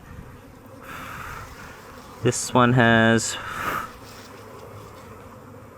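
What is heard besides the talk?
bees buzzing around an opened hive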